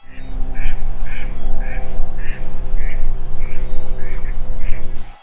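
A duck quacks in a steady series of about nine short, evenly spaced calls over a constant low hum of background noise, fairly close and clear.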